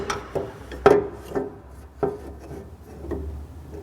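A metal foot pedal bar being slid into the frame of a P|Flux dust collector, a few close scraping rubs and knocks of metal on metal, with a louder clunk near the start.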